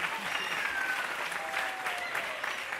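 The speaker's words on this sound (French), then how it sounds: "On peut l'applaudir bien fort." A concert audience claps steadily for an electric guitarist, a dense, even wash of applause held for several seconds at moderate distance, with faint voices beneath and no breaks.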